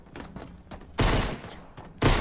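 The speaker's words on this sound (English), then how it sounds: "Oh, they're shooting, there's gunfire." Bursts of gunfire in a stealth infiltration video game, two loud broadband volleys about a second apart rising over quieter background game sounds, close and sharp.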